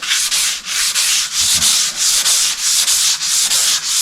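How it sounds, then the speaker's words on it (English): A sanding block scrubbed back and forth across a bathtub panel in a fast, even rhythm of rasping strokes, close and loud with no voices. "Get that on my block. Blow off the excess. And basically, you sand."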